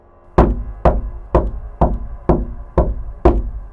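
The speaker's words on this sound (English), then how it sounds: "I was woken by a new sound. Knocking." Seven loud, heavy knocks on a basement door, evenly spaced at a slow, deliberate pace, each with a short booming resonance, no voices.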